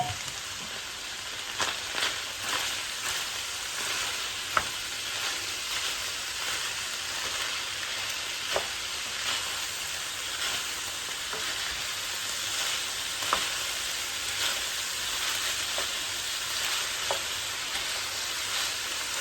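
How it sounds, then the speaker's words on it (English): Shredded cabbage frying in a pan for a cheesy beef cabbage casserole, giving a steady close sizzle with occasional soft stirring scrapes throughout and no talking. "We're going to let this cook for about 5 minutes until the cabbage gets soft"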